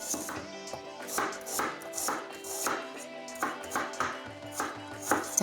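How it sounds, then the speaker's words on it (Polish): Knife chopping an onion into half-moons on a cutting board, a steady series of about a dozen crisp, evenly spaced cuts close up, no talking. "Cebulę pokroję w pół półksiężyce."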